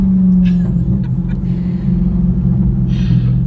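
A 1000+ horsepower Dodge Hellcat accelerating at half throttle, its loud, steady low engine drone and rumble filling the whole span from inside the car, with brief bursts of background noise over it.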